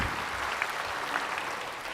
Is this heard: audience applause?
yes